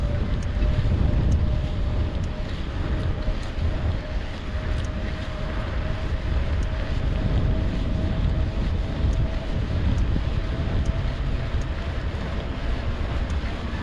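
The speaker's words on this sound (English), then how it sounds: "that wind's from the northwest because as we turn into the northwest, it hits it head on" Cold northwest headwind buffets a microphone on an outdoor trail, a steady loud roar of rumbling gusts that runs unbroken and drowns out other sound.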